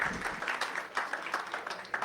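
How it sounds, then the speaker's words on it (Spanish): An audience gives brief applause at a formal closing event for a project on violence against women, a soft, scattered clapping heard at moderate distance. "Un fuerte aplauso para él, por favor, también."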